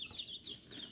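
A Rhode Island Red chicken gives a quick series of soft, close clucks, lasting under a second.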